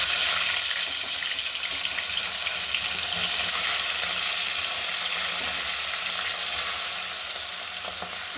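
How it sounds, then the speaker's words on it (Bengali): Bata fish frying in hot oil in a wok, a steady dense hiss of crackling oil that holds at an even loudness throughout with no voices. "এখন মাছ ভাজার জন্য আমি কড়াইয়ে তেল দিয়ে নিলাম।"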